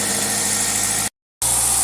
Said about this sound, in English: you can see the engine is revving pretty high with no throttle